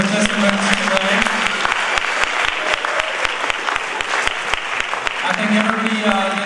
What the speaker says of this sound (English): why don't we give another big round of applause to all the participants today